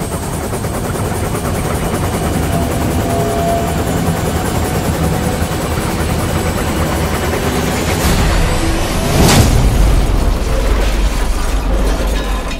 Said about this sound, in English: As Harold's rotor blades began to spin